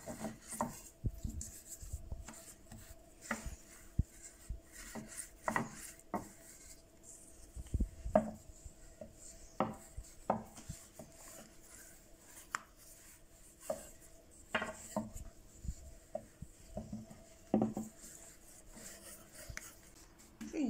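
Dough for a Şanlıurfa pastry is rolled out on a floured surface. Soft rubbing and rolling strokes repeat in an irregular rhythm, broken by light knocks of the rolling pin, all quiet and close with no talking.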